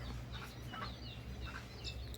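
Free-range F1 red junglefowl foraging on their own, giving short soft clucks and chirpy calls at close range over a low steady background hum, with no talking.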